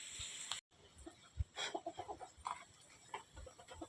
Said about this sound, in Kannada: ಕೋಳಿ ಇದಾವೆ ನೋಡಿ